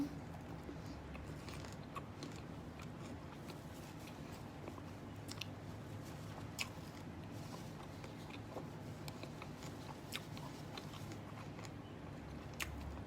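Crunchy fried riceberry rice tossed with fermented pork salad being eaten up close, with steady biting and chewing crunches repeating throughout and no talking.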